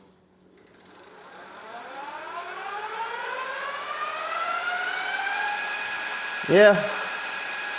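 A 750-watt electric motor on a LikeBike KN110 off-road e-bike free-spins in sport mode, its whine rising steadily in pitch as it spools up, then a brief bump near the end, with a short spoken word.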